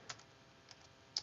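Computer keyboard typing while copying and pasting a link: a few sparse, soft key clicks, faint and close, with a quiet pause between presses and no speech.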